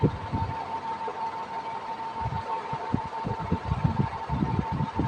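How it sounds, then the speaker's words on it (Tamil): A mixer grinder grinds ingredients for paruppu urundai kuzhambu in a mixie jar, giving a steady, fairly loud motor whine over irregular low knocking and rumbling from the jar's contents. "இப்போ நம்ம இதெல்லாம் வந்து மிக்சி ஜாரில் அரைச்சிட்டு வந்துடலாம்"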